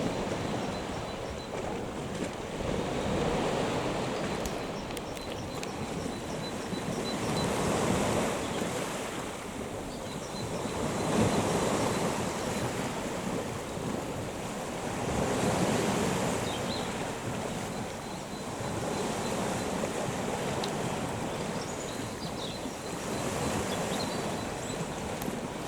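Sea waves washing ashore on an incoming tide, a steady outdoor roar with slow swells rising and falling every few seconds, mixed with wind buffeting the microphone.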